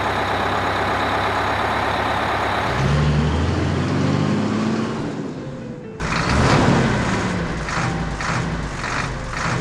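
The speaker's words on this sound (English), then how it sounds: "Ladder truck." A large fire department ladder truck's engine idles and rumbles, dropping lower before revving up again over the final few seconds.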